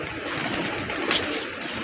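A paired pigeon coos softly in a loft, low murmuring calls under a steady broadband background hiss, with one brief brighter chirp midway.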